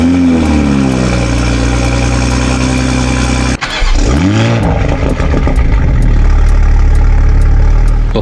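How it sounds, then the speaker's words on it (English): A Toyota Supra MKV in sport mode fires up from warm with a loud, violent burst that flares high, dips sharply, then surges again into a steady, rumbling idle close by, with no talk. "In the Supra, the warm startups are even more violent sounding than the cold startups"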